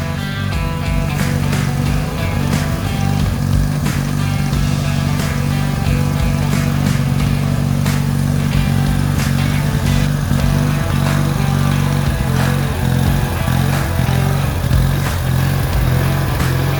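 A Mudmore off-road vehicle's engine, shifted into a lower gear, revs loudly and continuously up close with a throbbing, uneven mid-pitched roar throughout.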